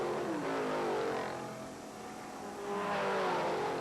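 Race cars roar past on track at a 1980 SCCA GT-1 national championship, Chevrolet Camaros with a Plymouth among them, engines swelling loud, dipping briefly, then rising again as more cars pass.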